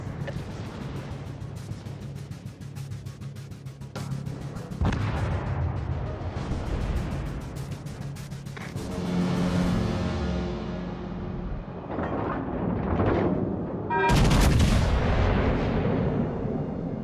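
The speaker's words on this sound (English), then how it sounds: "All stations. Concentrate fire on the target." Heavy naval artillery salvos from warships in World of Warships: Legends boom repeatedly, with deep rumbling blasts and long rolling decays, several loud shots spread across the stretch.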